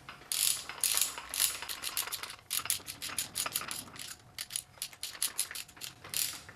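Ratchet with a 19mm socket snugging the supercharger pulley bolts on a Pontiac Fiero 3800, rapid bursts of close, crisp clicking in quick back-and-forth strokes, with short pauses between them.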